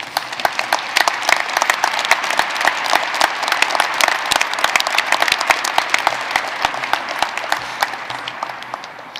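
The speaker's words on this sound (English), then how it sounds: "I'd like the faculty to stand up and just give you a round of applause." Faculty at a university commencement applaud the graduates, a large, steady, sustained ovation of many crisp hand claps filling a big hall throughout.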